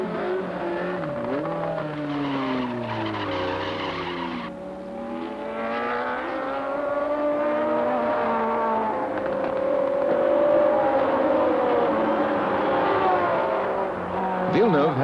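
A pack of 1978 Formula One cars roars into a tight first corner, engines rising and falling in overlapping pitch sweeps as they brake and accelerate away, with race commentary spoken over the continuous, fairly loud engine noise.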